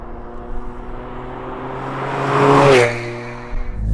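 Inside a Toyota GR Yaris three-cylinder with an MG Motorsport OPF delete exhaust, the engine drones steadily, then swells in a rising rev that peaks and falls away, heard from the cabin.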